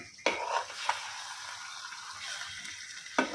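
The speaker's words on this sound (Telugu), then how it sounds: "కారం వేసి కొంచెం బాగా కలిపి" Chili powder is stirred into a country chicken curry with eggs in a pot: a few sharp scraping strokes at the start and end over a faint, steady simmering hiss, fairly quiet and close.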